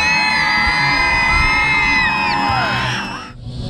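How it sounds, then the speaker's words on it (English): A school crowd of students at a BMX show cheers and yells loudly for their teachers, a dense sustained roar of whoops and shouts that thins out near the end. "let's give a big round of applause for your teachers out here"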